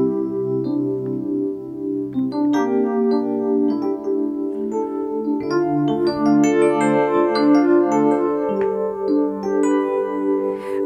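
A Yamaha reface DX synthesizer plays a power ballad keyboard patch: layered sustained chords with bright, bell-like upper notes that build gradually, steady and prominent, with no talking.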